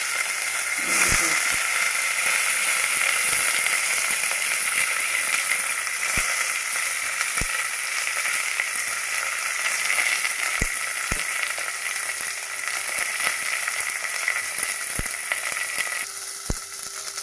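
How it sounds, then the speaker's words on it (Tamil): Mustard seeds, onion, chili and curry leaves fry in hot oil with a loud, steady sizzle and hiss. Sharp pops and crackles break through at irregular moments. "எண்ணெய் ஊற்றியிருக்கேன் கொஞ்சம் கடுகு வெங்காயம் மிளகா கருவேப்பிலை வெங்காயம்"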